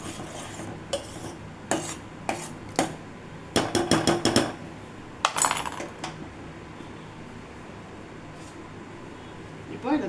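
Curdled milk for paneer handled in a kitchen with metal vessels: a series of sharp clinks and clatters of pots and utensils, clustered in the middle, over a quiet background.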